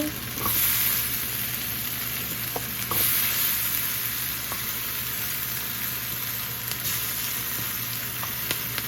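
Potatoes frying in a pan laid in a single row, a loud, continuous close sizzle with occasional pops and light stir knocks against the pan, while a steady hum runs underneath.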